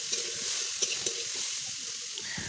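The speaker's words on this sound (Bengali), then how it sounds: "এখন আমি পেঁপে ভাজা দিয়েছি পেঁপেটা ভেজে নিব" Soft, steady sizzling of papaya pieces frying in oil, a low continuous crackle with a few faint clicks, close by and without talk.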